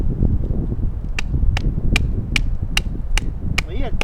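A hatchet chopping a branch outdoors in a steady series of about eight crisp, close blows, evenly paced over a rumbling wind background.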